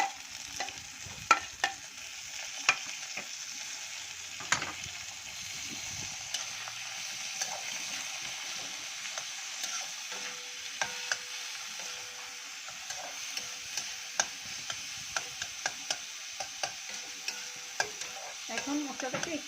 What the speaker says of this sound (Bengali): এখন মশলাটাকে একটু ভালো করে লাল লাল করে একটু ভেজে নেব